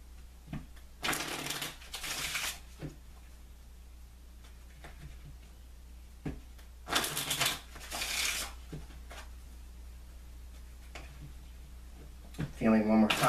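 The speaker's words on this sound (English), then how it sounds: "I'm going to take a few moments to shuffle the cards" A deck of oracle cards is shuffled by hand in several short riffling bursts separated by quiet gaps and soft taps, ending in a quick rattle, with no talking.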